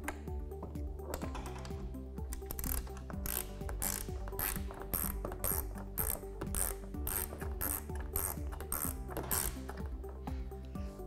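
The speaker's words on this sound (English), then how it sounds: "right here with the 3/8 wrench on the outside. Tighten this one up." A 3/8 ratchet wrench tightens bolts while a folding front windshield is installed on a Polaris Ranger XP 1000, giving close, rapid clicking pawl bursts in repeated strokes throughout with no talking.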